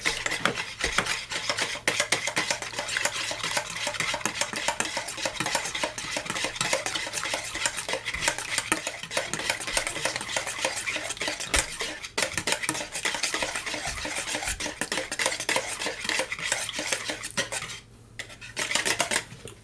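Lemon bun mixture being mixed in a bowl, a continuous close scraping and clattering of a utensil against the bowl that eases briefly near the end, with no speech.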